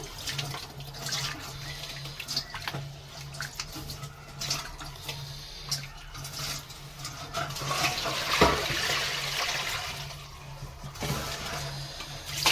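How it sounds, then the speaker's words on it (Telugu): Raw fish pieces being washed by hand in a wide vessel of water, with continuous sloshing and splashing close up, rising in a fuller surge near the middle. "నాలుగైదు సార్లు కడుక్కుంటే మనకి చేప ముక్కలకి ఏమన్నా పట్టింది ఏమన్నా ఉంటే పోతుంది"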